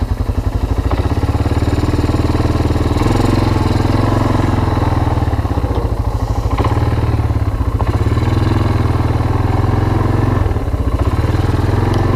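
Barn-find Yamaha Moto4 ATV, fitted with a cheap clone carburetor, running after a cold start, a loud, close, steady engine chug with mechanical clatter, continuous throughout.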